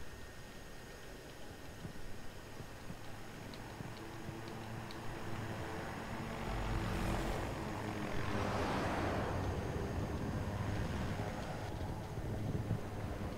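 Jet engine of a Sioux fighter jet in Battlefield 2042, a steady loud roar that swells around the middle and stays full to the end, with faint ticking over it and no talk.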